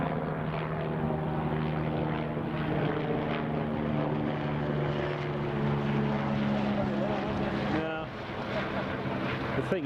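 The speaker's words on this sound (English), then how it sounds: "there's a Loganair taxiing" A Loganair propeller aircraft taxiing at Newcastle Airport gives a steady droning engine hum with a constant tonal whine, continuous and moderately near, fading slightly near the end, on a gusty crosswind day.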